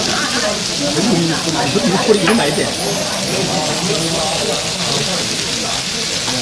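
Steady crackling sizzle of thick pork belly cooking on a hot grill, close up and continuous, with a voice speaking briefly over it.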